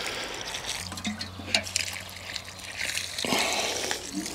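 Water pours from a can onto a garden plant during a dry spell, a soft continuous splashing trickle that swells toward the end, close by with a low background hum.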